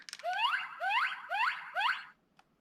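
Four repeated rising electronic roaring bursts from a Lion Fire Morpher toy in lion mode, each about half a second long, loud and close, followed by a short faint beep.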